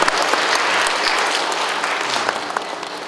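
Steady, dense applause from an audience at an award ceremony, a full crowd clapping loudly and continuously throughout with no voices over it.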